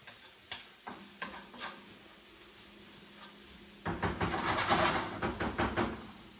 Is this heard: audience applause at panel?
no